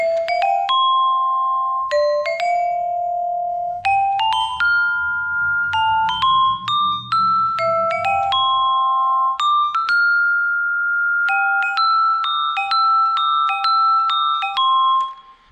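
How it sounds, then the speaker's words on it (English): A glockenspiel plays a bright, ringing melody of movie music, crisp metallic notes struck one after another with short decays, close and clear, while a soft low accompaniment hums faintly underneath for a few seconds. "Glockenspiel."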